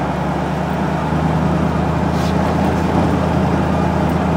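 A 1930 Ford Model A street rod with rear coil-overs rolling down a road, giving a steady low engine and road rumble throughout, close and even.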